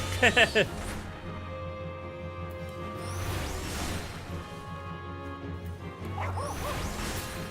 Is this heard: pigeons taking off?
no